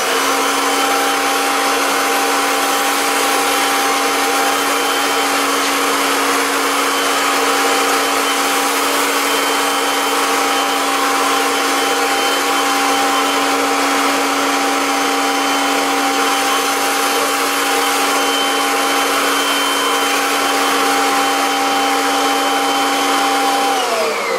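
A Kirby vacuum cleaner runs steadily with an attachment fitted, suction turned down, giving a loud, constant whine with a fixed tone that drops slightly near the end, with no talking.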